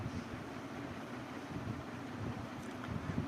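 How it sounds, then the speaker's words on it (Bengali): Steady, rushing wind noise from a strong storm buffets the microphone throughout, a broad low roar with no voices present. "হাওয়াও খুব চলছে বাইরে"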